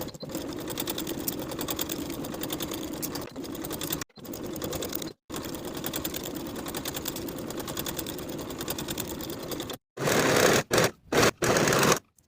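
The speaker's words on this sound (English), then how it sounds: "Now we can sew from the bottom of the sleeve to the bottom of the garment with a 3/8 inch seam allowance in one continuous stitch." A sewing machine runs a continuous seam on a kimono robe jacket, joining sleeve to garment side, in long steady whirring bursts broken by several short pauses and a few quick stop-start runs near the end.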